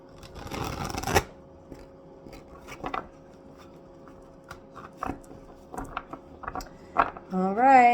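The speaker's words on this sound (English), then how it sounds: "I'm going to do one more shuffle" Tarot cards are riffled in a quick, dense burst near the start, followed by scattered soft taps and light handling sounds in a quiet room, with a brief tone near the end.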